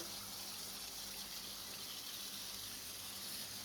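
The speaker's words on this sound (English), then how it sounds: "So hot water rinse." Hot water runs steadily from a tap over a tie-dye shirt during rinsing, a constant close hiss and gush with no pauses and no talking.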